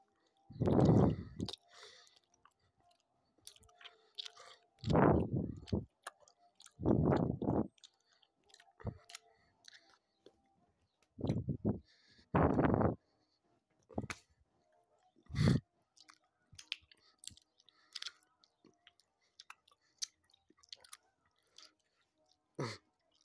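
Chewy strawberry Hi-Chew candy is chewed in short, separate bursts of wet, sticky mastication with quiet gaps between them, close to the listener.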